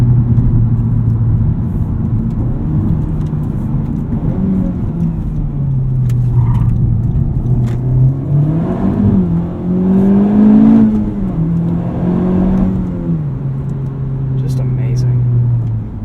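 A Honda Civic Type R accelerating hard from a standstill toward 60 mph, engine pitch climbing and dropping through gear changes with a steady rumbling drone inside the cabin, and a person talking over it.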